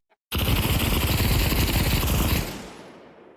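An MG42 machine gun in the Pavlov VR game fires one sustained, very rapid burst of about two seconds, loud and close, cutting off abruptly into a short fading echo.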